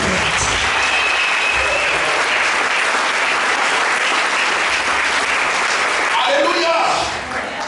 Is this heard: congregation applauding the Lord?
yes